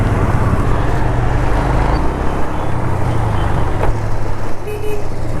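Loud, continuous road traffic in Balasore, Odisha, heard from a moving Pulsar 150 DTS-i motorcycle: dense engine and wind roar with passing vehicles, a short horn-like tone and faint beeps near the end.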